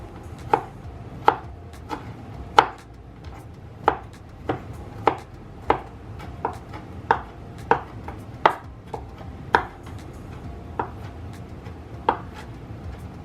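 A knife finely chopping garlic cloves on a board: about fourteen crisp, evenly spaced cuts, close and distinct, with no talk.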